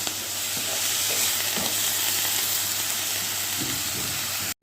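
Spinach being stirred with salt in a pan, giving a steady close sizzle with soft scraping stirs throughout and no talking.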